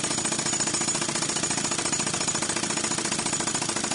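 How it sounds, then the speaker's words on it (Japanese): A stand mixer with a spatula attachment mixes dough in the Cooking Simulator video game, giving a steady, rapid rattling mechanical drone that holds evenly throughout with no talk. "じゃあこれをヘラの付け具で混ぜます"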